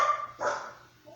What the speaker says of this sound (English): have no idea why my dog's barking